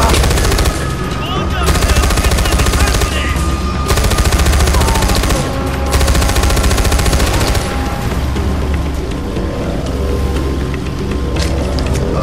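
Gunfire in the video game Far Cry 4, dense loud bursts of automatic fire layered over a steady engine rumble, continuous throughout, with a player's voice speaking faintly underneath.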